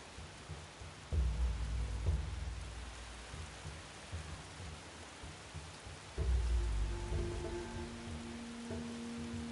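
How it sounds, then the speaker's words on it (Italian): Steady rain falls in the PS5 kung fu game Sifu, a dense hiss of droplets that swells twice with deeper low rumbles, like distant thunder, and carries on alone without talk. "Io sul DualSense sento le gocce di pioggia."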